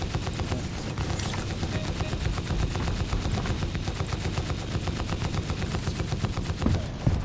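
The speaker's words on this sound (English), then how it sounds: "Guy's shooting at me again." Rapid automatic gunfire in Star Citizen, a dense, steady stream of shots rattling continuously with faint mechanical clatter, fairly close and without talk.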